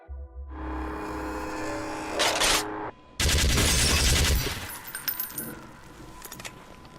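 A Spy fires gunshots in the video game Team Fortress 2, a loud burst of rapid shots, a brief pause, then another harsh volley that fades into scattered clinks and rattles.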